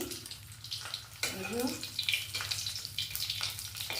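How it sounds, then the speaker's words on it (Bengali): Hilsa fish heads frying in hot oil give a steady crackling sizzle, with a low pan hum and occasional brighter bursts of spatter, heard up close for the whole stretch. "ইলিশ মাছের মাথা দুটো ভেজে নিচ্ছি"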